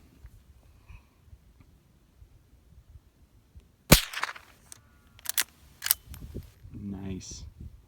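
A Henry .22LR lever-action rifle fires one sharp, loud shot outdoors, followed by faint cycling clicks of the lever and a voice speaking afterward.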